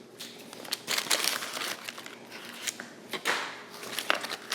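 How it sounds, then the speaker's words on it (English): Scissors snipping off excess material while preparing a harvest-themed dinner, a few quiet, close cuts with light crinkling between them and no talk. "I think I'm gonna cut a little extra off here too."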